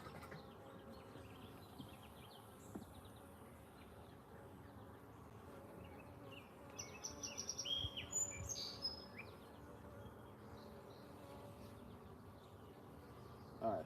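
Honey bees hum around a hive in a beeyard during an inspection, a faint steady drone with scattered higher buzzes and chirps growing busier in the middle, with no one talking.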